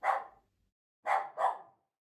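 A dog barks as a sound effect in a children's Halloween book read-aloud, three clean, close barks: one alone, then a short pause and a quick pair, with silence between them.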